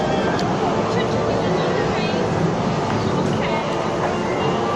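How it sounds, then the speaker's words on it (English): A steady rumbling train ride at Downtown Disney, the broad continuous rolling noise staying loud throughout with people talking over it. "Ride the train."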